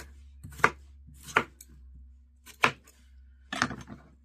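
Knife chopping potatoes into chunks on a board for mashed potatoes, four sharp separate thuds spaced unevenly, close and clear over a low steady hum, no talk.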